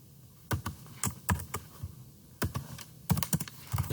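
Typing on a computer keyboard while writing C++ code, with quick irregular bursts of close key clicks separated by short pauses, fairly quiet and without talk.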